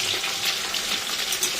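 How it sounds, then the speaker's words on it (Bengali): Barramundi fish heads fry in a pan with a continuous, close, crackling sizzle of hot oil, steady throughout with no talking. "তাই মাথাগুলো একটু ভাজা হোক, ভালো করে লাল লাল করে ভেজে নিই"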